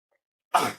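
A single sharp sneeze bursts out close and loud after a short silence, then fades quickly.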